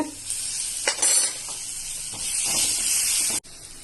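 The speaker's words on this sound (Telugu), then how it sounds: "ఈ తురుమును వేసి బాగా వేపనివ్వాలండి" Grated potato frying in a pan for aloo poha makes a steady, close hissing sizzle, broken by a few soft stirring scrapes and a brief clack near the end.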